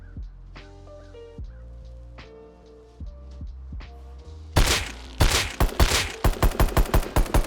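Gunfire in the game Rust with recoil compensation turned off, opening with scattered spaced shots over background game sound, then a loud rapid burst of evenly spaced automatic fire.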